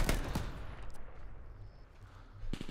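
Bursts of gunfire in the Call of Duty Vanguard beta on PS5, a loud volley at the start and another near the end, with a low rumbling battle bed between them.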